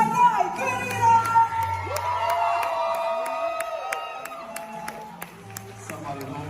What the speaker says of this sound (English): Keep that applause going for the commander of the Wakanda Army, Danai Gurira.